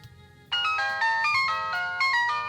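A mobile phone rings with an incoming call, a bright electronic melody of repeating tonal notes starting abruptly and continuing steadily, loud and close, with no talking over it.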